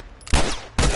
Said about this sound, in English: Oh, you shot me in the face.